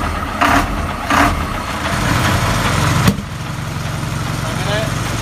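An Ashok Leyland truck diesel engine idles after a cold start, a loud, steady low rumble close by with a few brief bursts early on and a sharp knock near the middle.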